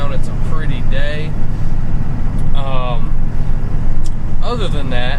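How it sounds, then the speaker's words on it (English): Steady rumble of road and wind noise inside a diesel truck cruising with the windows down, a constant low roar running the full length under someone talking. "there's a little background noise. I'm riding with the windows down."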